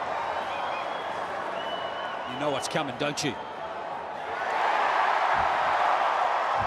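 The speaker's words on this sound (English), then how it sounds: "Judging by that reaction from the crowd, that is a try, my friend." A rugby stadium crowd at a New Zealand vs Australia match swells into a loud, sustained roar after a try, following a stretch of quieter murmur with a commentator speaking over it.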